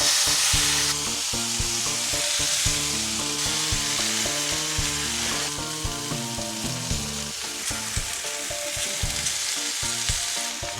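Food sears in a hot pan with a loud, continuous, close sizzle lasting throughout, while tonal background music plays underneath.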